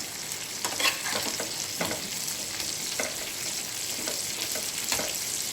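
Masala Bombay duck (bagda) fish frying in a pan, a continuous close sizzle and crackle with occasional soft scrapes from turning or stirring.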